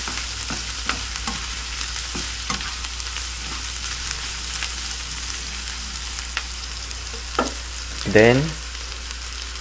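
Pork sizzling steadily in a hot pan while being stirred, with scattered clinks and scrapes of the utensil and a brief louder scrape near the end.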